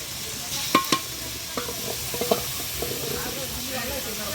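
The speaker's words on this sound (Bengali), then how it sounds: "মশলাটা তো ফাইন কষানো হচ্ছে" A spice paste of ginger paste, cumin paste and dried chili powder frying for a potato, pointed gourd and soya curry, a steady close sizzle broken by a few sharp stirring scrapes and clatters, with no talk.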